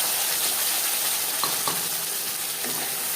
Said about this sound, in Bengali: পনেরো 20 সেকেন্ড কালো জিরে ভেজে নেওয়ার পর দিয়ে দেব সর্ষে, নারকেল, কাঁচা লঙ্কা ও টক দই